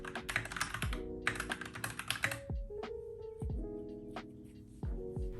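Fingers type quickly on a computer keyboard during a 10 Fast Fingers speed test: close, rapid bursts of keystrokes are broken by short pauses, with a faint hum underneath and no talking.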